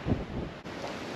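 Steady wind gusts across the microphone on the Yorke Peninsula coast, a continuous broad rush with a brief dip partway through, no voices.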